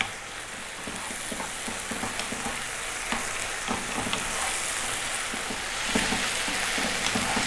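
Whole fresh chilies fry in a pan with garlic and ginger, a steady close crackling sizzle that runs throughout, with soft intermittent scrapes and taps from continuous stirring.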